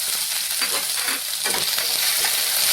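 Chopped onion hits hot oil with cumin in a pan, giving a loud, continuous sizzle and crackle close up. No one speaks.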